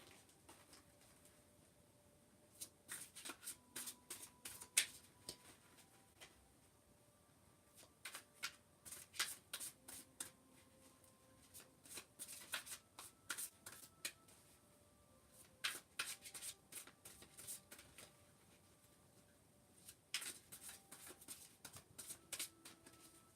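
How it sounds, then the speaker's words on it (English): Angel cards being shuffled in a series of quick riffling bursts, crisp papery flutters repeating every few seconds at close range, over a quiet background with faint tonal hums. "While I'm shuffling"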